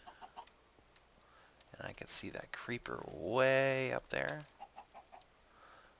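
Chickens cluck softly in the Minecraft video game, small clucks scattered around someone talking over them.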